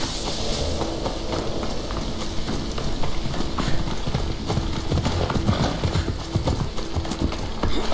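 Horse hooves clip-clop steadily in Assassin's Creed Odyssey, a loud, continuous galloping rhythm mixed with dense game ambience and rumbling background noise.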